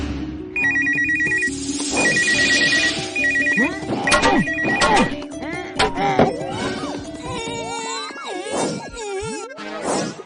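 A telephone rings in repeated electronic bursts in a Hindi cartoon while a call is placed to a kidnapper's number, mixed with cartoon music, whooshes and comic thuds.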